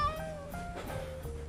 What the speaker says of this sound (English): Locals here reckon up to 70 cats are living wild in their gardens